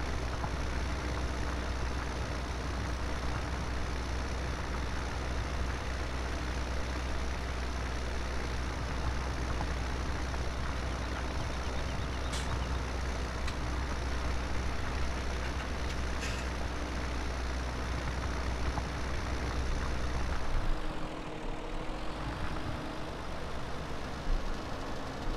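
Tractor engine in the video game Farming Simulator 17, a steady loud diesel drone running without a break and then shifting briefly near the end.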